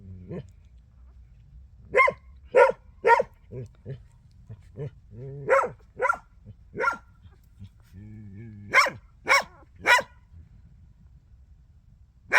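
Dogs barking in a rural setting, a series of sharp barks in irregular bursts, some paired, fairly close and loud against a quiet background, with no talk over them.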